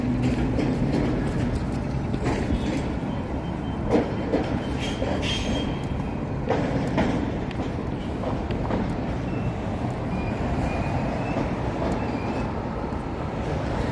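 A historic streetcar runs on rails, heard from on board: a continuous low rumble with clicking wheel-on-track knocks and brief faint squeals, steady and close throughout.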